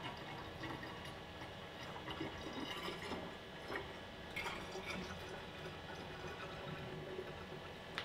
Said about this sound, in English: And now I'm going to be tipping this in the funnel.